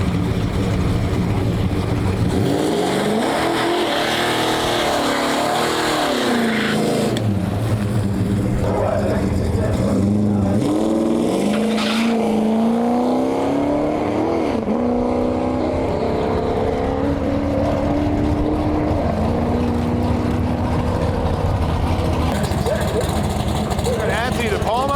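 A Camaro roars down the dragway at a season-opener race. The loud engine rises and shifts pitch as it accelerates away, and an announcer talks over it.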